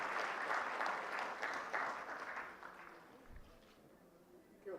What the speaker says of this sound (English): A round of applause for the first winner of the day,